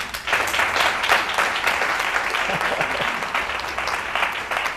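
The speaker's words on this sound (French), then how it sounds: "Les jeunes de Trècheville sont formidables. Il faut encore les applaudir." An audience applauds the young people of Treichville at a holiday youth event, a dense, loud round of clapping that holds steady throughout.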